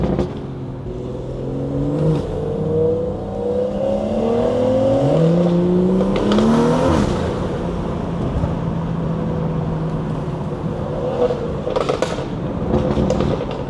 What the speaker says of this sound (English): these burbles sound different right now. Let's listen to the downshifts.